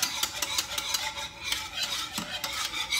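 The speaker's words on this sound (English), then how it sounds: "So we're gonna continue to stir" A coquito mixture is stirred in a pot over medium heat, a soft continuous swishing and scraping with faint clinks, close and fairly quiet, with no talking.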